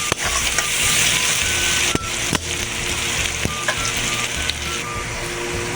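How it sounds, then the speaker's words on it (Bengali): Chopped onions frying in a pan for a fish curry, a steady loud sizzle broken by a few sharp utensil knocks and scrapes against the pan. "পেঁয়াজ কুচি দেওয়ার পরে ভালো করে কষিয়ে নেব পেঁয়াজটাকে।"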